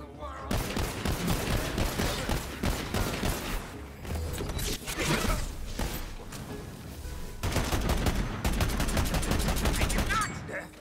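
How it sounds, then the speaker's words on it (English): Dense, rapid gunfire from Tiny Tina's Wonderlands rattles almost nonstop, with clattering bursts and mechanical clicks layered loudly over one another, and scattered voices beneath. "Ignore the first like 4 shots that missed."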